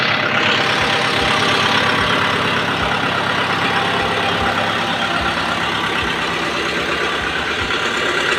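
A 2022 Kubota M6040 tractor engine idles steadily and loudly close by, a continuous low rumble with an even, regular beat and no voices.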